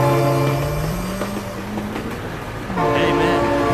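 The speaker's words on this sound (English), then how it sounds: "Oh my god, train!" A train in the BeamNG.drive driving game rolls past with a sustained horn blast and rumbling wheels, the horn pitch sliding as it passes, then sounding loud again near the end.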